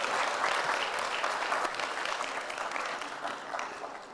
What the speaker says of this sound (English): Can we have another round of applause for Mr. Sylvester?